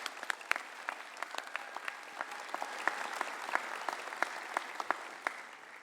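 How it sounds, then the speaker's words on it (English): A graduation ceremony audience in Cairns claps for lecturers and university staff, a sustained round of fairly distant applause with sharp individual claps scattered through it. "a round of applause for the lecturers and JCU staff is in order"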